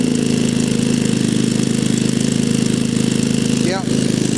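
A 4.2-litre Jaguar XJ6 straight-six holds a steady, loud, even idle while its twin carburetors are being tuned, with a brief whistling tone rising near the end.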